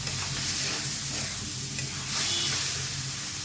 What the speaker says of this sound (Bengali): আবার একটু নাড়িয়ে তুলে নিচ্ছি যাতে তলায় লেগে না যায়